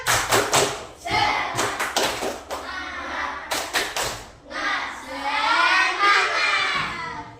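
In an Indonesian classroom lesson, schoolchildren perform the 'tepuk semangat' clapping chant. Rhythmic bursts of clapping and thumps alternate with loud shouted chanting from the whole class, close and lively over several seconds.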